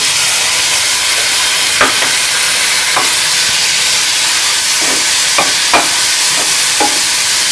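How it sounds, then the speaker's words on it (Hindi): Tomatoes frying with spices in a pan for a tawa paneer masala sandwich, a steady loud sizzle with several sharp stirring scrapes of the spoon against the metal. "अब हम ये टमाटर डाल देंगे।"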